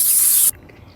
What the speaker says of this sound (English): remember to spray your pads down with some brake cleaner